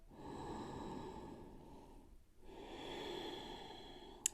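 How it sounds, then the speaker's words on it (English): Slow, deep yoga breathing: two long, steady airy breaths, close and soft, separated by a brief quiet pause, with a small click at the end. "One more breath."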